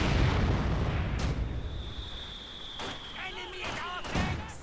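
Mortar and artillery shells exploding in the strategy game Company of Heroes 2 on a Port of Hamburg map, a heavy rumbling blast fading into sharp booms and pops, with battle noise underneath and no talk.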